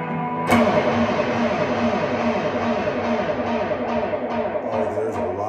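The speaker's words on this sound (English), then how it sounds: "there's a lot of distortion now" Distorted electric guitar through a rough-built Hiwatt-style amplifier circuit, a dense buzzing chord struck sharply and left ringing with a thick, saturated sustain, loud and close with no talking.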